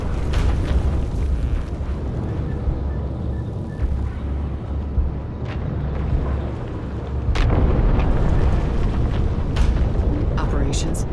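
A resource controller blown apart during a Homeworld 3 space battle: loud, deep rumbling booms roll on without pause, swelling further toward the end, with a few sharp pops cutting through.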